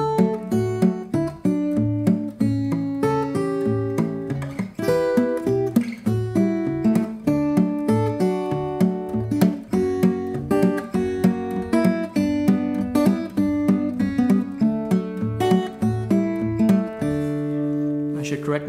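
Fingerstyle acoustic guitar plays Freight Train with Travis picking, a steady alternating bass under a plucked melody, close and clear with no talking.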